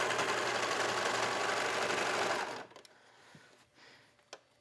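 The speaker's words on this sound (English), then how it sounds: "you do want to make sure that you catch the elastic in the serger stitch so that it's attached to the pants" Serger overlocker stitching elastic onto stretchy legging fabric, a loud dense whirring run for about two and a half seconds that cuts off abruptly, leaving quiet handling noises and a faint click.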